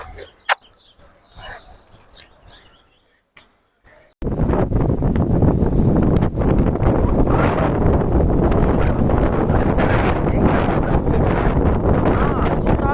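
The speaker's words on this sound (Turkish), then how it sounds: "Çok rüzgar var." Loud, constant wind buffeting on the microphone roars in suddenly after a few quieter seconds and continues without letup, at a coastal tower on Yumurtalık bay, Adana, Turkey.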